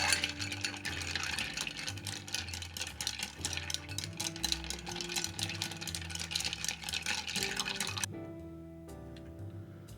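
A Mikado cocktail with Angostura bitters and orgeat is stirred with a barspoon over ice, a dense, rapid clinking and rattling for about eight seconds before it stops. Soft background music plays underneath.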